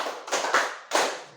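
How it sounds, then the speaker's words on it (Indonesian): A group of people at a school performs a rhythmic clapping pattern: two sharp, loud bursts of clapping a short interval apart, each decaying quickly. "Tepuk 5 2 kali"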